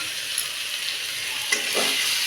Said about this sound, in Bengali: এবার আমি এই পোস্ত সর্ষে আর লঙ্কাটা দিয়ে দেবো